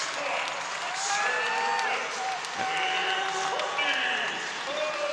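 Crowd cheering and applauding at match point of a 2022 ACC college volleyball match between Georgia Tech and Pittsburgh, a sustained loud roar of claps and shouts with whistle-like tones and a commentator's voice over it.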